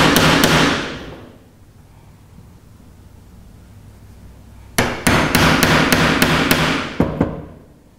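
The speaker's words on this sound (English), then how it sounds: "is just simply use a chisel. And get yourself a little starting point there." Chisel struck with a hammer to cut a starting groove in wood while fitting outer gunwales on a Whitehall Wherry boat: a few sharp blows at the start, a quiet pause, then a rapid series of about eight close, loud strikes.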